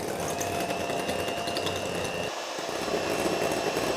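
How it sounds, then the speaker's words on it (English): Two egg whites whipped stiff in a separate bowl, likely with an electric mixer, give a steady, continuous motor whir that runs unbroken and fairly loud throughout, with no talking. "We put the 2 egg whites and beat it."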